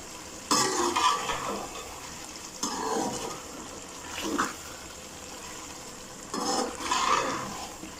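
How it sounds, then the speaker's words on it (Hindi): Aloo baingan masala of eggplant and potato stirred and fried in a pan over a full gas flame, with three bursts of scraping and sizzling spaced apart over a faint steady background, no talking. "गैस की फ्लेम को फुल कर लेंगे और इसकी अच्छे से भुनाई कर लेंगे।"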